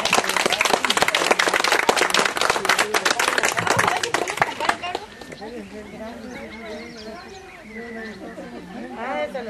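A family cheered for finally getting electricity: several seconds of loud, sharp clapping, then a bright exclamation as it fades, with people talking and chattering afterward.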